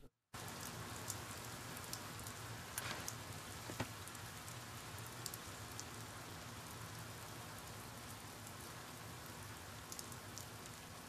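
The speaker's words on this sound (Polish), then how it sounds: "Pada przy okazji, o widzisz." Steady rainfall in the shooter game Medal of Honor: Warfighter, a continuous dense patter of drops on surfaces that holds at an even level throughout with no other sounds standing out.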